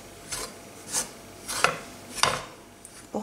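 A spoon or spatula scrapes and stirs flour toasting in a frying pan over medium heat for sellou, in four or five distinct rasping strokes at a steady rhythm, close and fairly quiet, with no talking.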